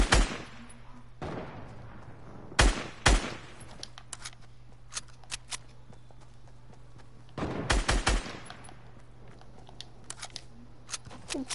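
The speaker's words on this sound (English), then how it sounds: "Did somebody just shoot at the tree?" Gunshots in a solo video game shooter match, sharp loud cracks in short bursts of two or three with quieter scattered shots between, over a steady low background hum.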